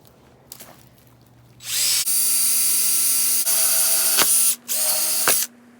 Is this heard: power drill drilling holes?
yes